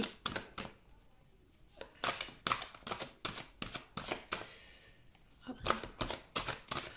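Tarot cards being laid out one after another in a reading: a run of crisp, close slaps and flicks with short gaps between them, some in quick pairs, with no talking.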